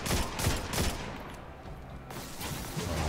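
Rapid gunfire in the Destiny 2 video game, dense bursts of loud shots cracking in quick succession, easing briefly before the firing resumes.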